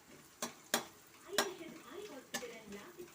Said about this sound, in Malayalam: ഒരു ടീസ്പൂണ് മല്ലിപ്പൊടിയും ഒരു അര ടീസ്പൂണും മുളക് പൊടിയാണ് ചേർത്ത് കൊടുത്തിട്ടുള്ളത് ഒന്നിത് മൂപ്പിച്ചെടുക്കാം